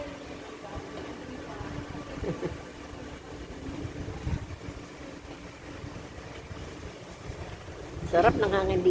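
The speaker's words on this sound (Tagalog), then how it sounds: "Lakas ng hangin." Steady wind roars and buffets the microphone throughout, with a faint voice speaking near the end.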